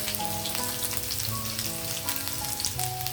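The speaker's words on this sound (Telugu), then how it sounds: "ఇది అల్లం వేస్తున్నాను." Ginger pieces frying in hot oil for pulihora, a close, continuous sizzle with crackling pops and occasional stirring clinks, no talking.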